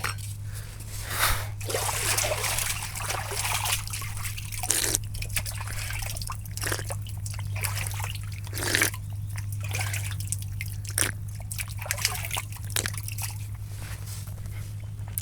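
Water trickles steadily along a field irrigation channel on a farm being prepared for a paddy crop, with small splashy ticks over a constant low hum.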